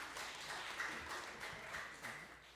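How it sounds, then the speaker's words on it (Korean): Soft, even applause from a church congregation for a deacon, heard at a distance and fairly faint, with steady clapping lasting a few seconds. "계익고 집사님께서 박수 한번 보내주시죠."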